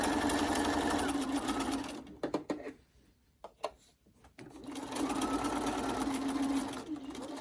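A sewing machine stitching a zippered project bag, running in two sustained bursts with a broken pause of clicks and brief stops between them.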